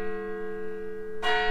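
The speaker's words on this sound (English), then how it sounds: "I just want to comment on how irregular that bell is." A church bell in Fort Kent, northern Maine, rings loud and sustained with a ringing tone that lingers, then a fresh stroke lands off the expected beat, giving the peal an uneven, irregular rhythm.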